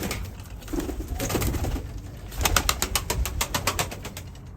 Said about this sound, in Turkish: Nefes nefese kalmış kuş ya.